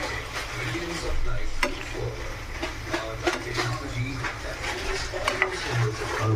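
Liver frying in a pan while being stirred, with scraping and rubbing strokes and occasional sharp clicks over a low sizzle, close and uneven in rhythm.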